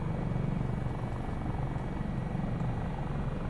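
Dolphin helicopter in Microsoft Flight Simulator flying near Mt Hood, its steady rotor and turbine drone filling the cockpit as a continuous, loud, unbroken whir with no voices.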